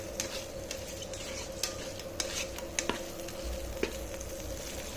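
Shrimp sizzle and fry in a pan while being stirred, with a steady soft frying hiss and several sharp scraping clicks of a utensil against the pan.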